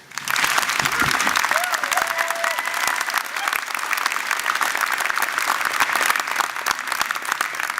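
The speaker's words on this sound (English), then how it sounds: "Please give Dr. Williams a round of applause." Sustained audience applause for a speaker at an arts and sciences convocation ceremony, a loud, dense wash of many hands clapping that rises quickly and stays full and even to the end.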